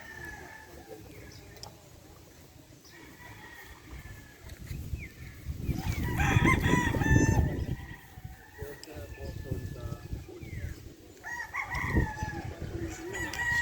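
Sweater Boston Gray gamefowl roosters at a game farm crow in the open, with clucking and other birds around, under someone speaking steadily through the scene.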